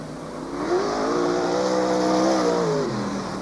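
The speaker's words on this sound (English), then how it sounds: "Car's rolling now through 3." Sprintcars at the 1996/97 South Australian Sprintcar Championship roll around the track in a pack, their engines a loud, steady, droning roar that swells slightly and holds, heard from nearby with no talk over it.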